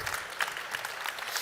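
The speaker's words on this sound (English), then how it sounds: "can you all put your hands together for our angels today?" Applause from an audience at a live property event, a steady close patter of many hands clapping that fills the whole moment without a break.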